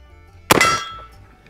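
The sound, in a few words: 1873 Springfield trapdoor carbine shot ringing a steel gong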